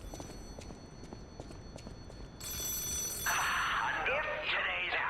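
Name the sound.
telephone ringing in Lies of P video game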